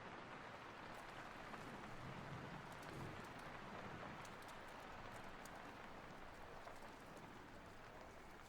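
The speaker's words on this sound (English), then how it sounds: "Oh, I do love the rain." Rain falls steadily during a spooky Halloween ASMR reading, a soft, even hiss of drops with faint scattered patters, heard quietly and alone without any voice.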